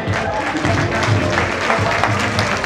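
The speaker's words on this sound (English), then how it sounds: "let's give ourselves our hearty clap" Graduates at the University of Embu's first-cohort 2024 graduation ceremony in Kenya clap for themselves, a loud, close burst of dense applause blended with crowd noise and sustained tonal sound.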